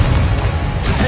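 A Confringo fire spell cast in the Hogwarts Legacy video game, a dense, sustained burst of crackling, booming energy with heavy low rumble that fills the whole moment without a break.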